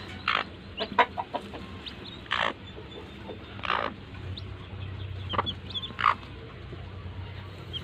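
Native hen with newly hatched chicks in a backyard setting, giving scattered clucks and short calls at close range over a steady outdoor background hum, no talk.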